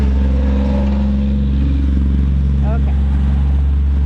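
A truck drives past a garden as a loud, steady low engine rumble close by, with a brief spoken word over it.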